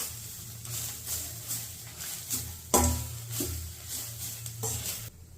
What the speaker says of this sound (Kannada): ಕಾಯಿ ತುರಿ ಸ್ವಲ್ಪ ಫ್ರೈ ಆದರೆ ಸಾಕು.